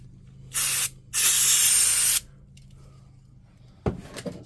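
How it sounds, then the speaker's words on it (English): Brake cleaner hisses from an aerosol can onto a DeWalt DCN660 nailer in two loud close bursts, a short one then a longer one, followed by quiet and a few small knocks of handling. "brake cleaner."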